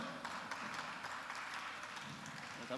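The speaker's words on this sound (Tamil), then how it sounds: "எங்கே உங்களது பரத்த கரகோஷம்." An audience at a stage ceremony applauds a guest being called up to be honoured. The continuous, fairly faint clapping fills the hall evenly, with many hands patting at once and no speech.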